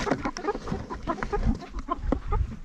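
Several village chickens clucking and squawking close by in quick, irregular bursts, fairly loud and busy throughout.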